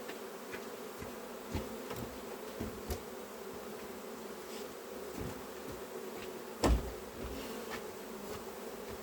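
Steady, dense buzzing of many honeybees close by, with a few soft knocks and one sharper thump partway through.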